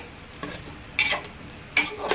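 Vegetables and spices stirred together in a pressure cooker with hot boiled water, a few short scraping clatters of a spoon against the pot, alone and close.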